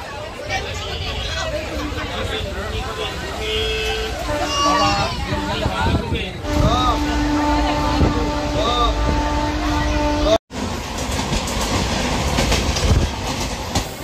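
A crowded passenger train bound for Digha rumbles and rattles steadily from inside a carriage, with passengers chattering and a voice speaking over the running noise.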